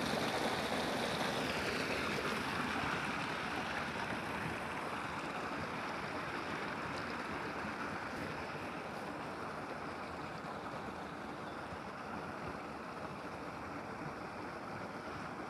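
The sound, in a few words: water flowing from the Roya wa Omid dam stream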